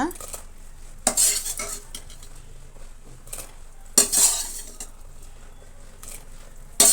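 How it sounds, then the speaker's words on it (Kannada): Okra pieces tipped into a pot of simmering sambar made with toor dal, peanuts and grated coconut: metal spoon and vessel clatters in three sharp bursts over a faint background sizzle, with no talking. "ಈಗ ನಾವು ಬೆಂಡೆಕಾಯಿನ ಸೇರಿಸೋಣ"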